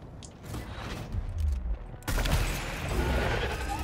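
Gunfire in Gears Tactics rattles on in dense bursts, then grows louder and busier partway through, a steady barrage of shots mixed with low booms and mechanical clatter.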